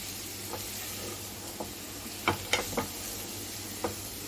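Shredded cabbage with chili powder fries in a pan with a soft, steady sizzle, broken by a few sharp clicks and taps of a spatula against the pan.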